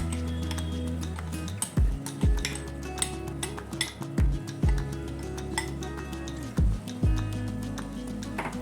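A spoon scrapes and clinks against a pan as ground mung dal paste is stirred into ghee for halwa, with irregular metallic taps and knocks over a low steady hum, near and moderately loud.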